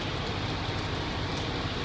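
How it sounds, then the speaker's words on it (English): Heavy rain pours outdoors as a dense, steady hiss that fills the short stretch at an even loudness, with no talk. "unfortunately it started pouring"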